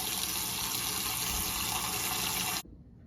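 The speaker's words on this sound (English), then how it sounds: "we're just going to cover our lids in hot water in a pot" Hot water gushes from a tap into a pot holding canning lids, a steady loud rushing pour that cuts off abruptly near the end, leaving quiet room tone.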